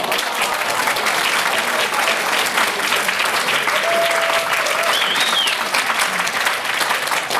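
A cabaret audience breaks into sustained, dense applause, many hands clapping steadily and loudly for several seconds with a faint whistle or voice rising briefly above it.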